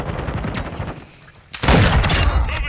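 A video game sniper rifle fires with a loud, close crack after a brief lull, followed by a booming, echoing tail, preceded by scattered distant shots; no talking.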